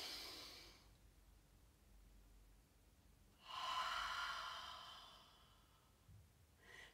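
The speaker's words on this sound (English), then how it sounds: "Nice and slowly out through your mouth. Deep breath in through your nose." Slow, deep breaths in a guided breathing exercise: a long audible exhale, a pause, then a strong drawn inhale through the nose, close and clear with no speech.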